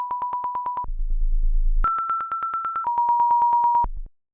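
An Ableton Operator synth tone stepped by a random LFO: a steady pulsing beep that jumps abruptly between a few fixed pitches, including a low buzzing step, clean and electronic with no voices.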